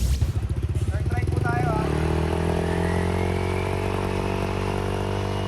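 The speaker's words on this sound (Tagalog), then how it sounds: "Ganito kaingay ang mga tambutso ng ilang motor na nahuli sa Tondo, Maynila noong Biyernes." Motorcycles with overly loud exhausts caught in Tondo, Manila, one starting with rapid popping pulses then revving up into a loud, sustained throaty drone close by, with a voice speaking over it.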